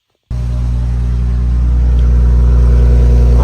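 A BMW X5 in Sport mode with exhaust flaps open starts up abruptly from silence into a loud, deep rumble that holds and slightly swells, close to the exhaust.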